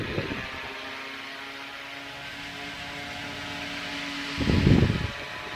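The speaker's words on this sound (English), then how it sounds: "It's unbelievable how this fan can blow so much air." A vintage ZERO Model 1265R electric fan runs with a steady, close-up whirring hum, and a louder rushing swell rises briefly near the end.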